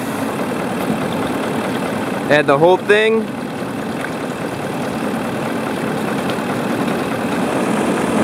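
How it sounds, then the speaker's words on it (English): A car engine idles steadily during a cooling system flush, a low continuous hum running throughout, with a brief voice speaking briefly over it partway through. "With the engine running, add the rest of your water."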